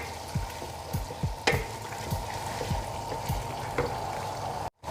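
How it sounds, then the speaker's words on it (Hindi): Ginger garlic paste fries with chicken in a pan, a steady close sizzle and crackle broken by several scraping stirs of a utensil against the pan. "अब हम ऐड करेंगे लहसुन अदरक का पेस्ट। इसे 2 मिनट तक फ्राई करेंगे।"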